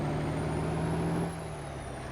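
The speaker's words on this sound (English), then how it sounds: "Oh, the Jake brake's not very loud in this thing." A low, muted Jake brake rumble drones steadily from a truck in American Truck Simulator, then drops off and settles into a quieter idle hum.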